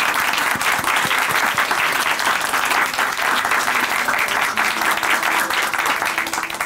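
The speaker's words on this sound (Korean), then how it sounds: "다시 한번 감사와 찬양의 박수" A church congregation at Chuncheon Hanmaum Church gives loud, sustained applause of thanks and praise after a testimony, filling the room continuously for several seconds without any speech.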